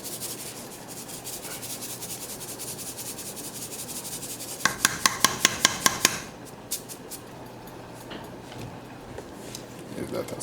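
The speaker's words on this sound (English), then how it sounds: "Give that a stir." Jamaican red peas soup with pig's tail being stirred in a pot, a run of sharp scraping clinks near the middle amid a steady background hiss, with a few scattered knocks afterward.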